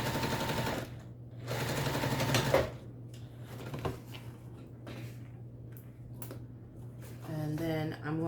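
A sewing machine runs in short bursts of rapid mechanical ticking as it top stitches a folded raw edge, with a speaking voice in the pauses between runs.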